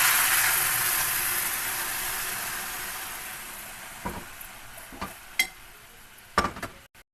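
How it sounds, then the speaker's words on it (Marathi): Milk poured into a pan of vermicelli with coconut hisses and sizzles loudly at first, then fades gradually, followed by a few sharp clinks and knocks of utensils against the pan. "दूध टाकून घेऊया."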